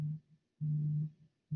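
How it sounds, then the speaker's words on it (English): A phone rings during a lecture, making low buzzing pulses with short gaps between them, steady and fairly close with no talk over it. "my phone is ringing"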